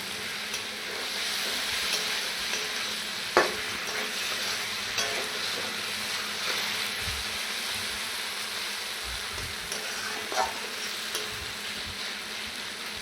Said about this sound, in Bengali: এইভাবে আর একটু ভেজে নেব